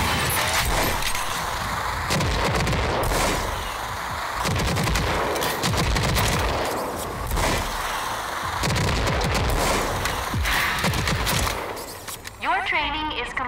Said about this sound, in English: Use the smart rocket launcher's overdrive against the simulated enemies.